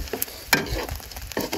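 Prawns frying in oil over an outdoor fire on a riverboat at night, soft sizzling broken by several short stirring scrapes and clatters, close and moderately loud.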